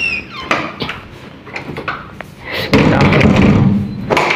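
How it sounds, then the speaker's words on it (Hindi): A door is pushed shut in a house with a solid thud, among several knocks and bumps of handling, followed by a louder rattling stretch. "फिलहाल तो लाइट वाइट दरवाज़ा वरवाज़ा बंद करते हैं।"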